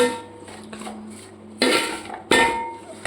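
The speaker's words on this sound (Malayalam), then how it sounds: "നമുക്ക് പൊടികളൊക്കെ ഇട്ടിട്ട് നന്നായിട്ടൊന്ന് ഇളക്കി പൊടിയുടെ പച്ചമണമൊക്കെ കളഞ്ഞ് എടുക്കാം" Spice powders for beef pickle being stirred in a pan over a low flame, with two sharp metallic clanks and scrapes of a utensil against the pan over a faint background hum, close and without speech.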